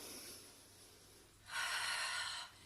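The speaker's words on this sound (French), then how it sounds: "Inspirez par le nez, expirez par la bouche." Soft, quiet breathing in a calm Pilates session on a chair, with a faint nasal inhale followed by a longer, breathier exhale through the mouth that stays audible for about a second.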